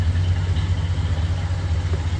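A 1966 Ford Galaxie convertible with a 7.0-liter 428 V8 idles close by, giving a steady, even low rumble with no other sounds.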